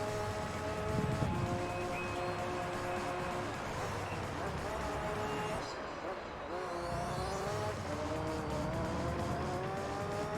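Race cars battling on track in Gran Turismo 3, with the player's LMP car engine droning at a steady pitch, then rising and falling as cars close in and pass, loud and continuous.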